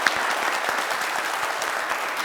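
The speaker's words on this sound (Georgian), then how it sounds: "აქ ძალიან დიდი ტაში მინდა" Studio audience breaks into dense, steady applause for a Georgian TV talk show's first-anniversary episode, many hands clapping evenly with no voices on top.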